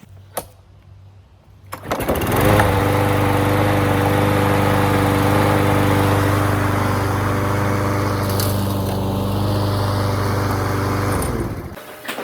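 A repaired lawnmower engine catches after a brief start attempt and runs loudly and steadily at a constant pitch for about nine seconds before cutting out, close up with no speech.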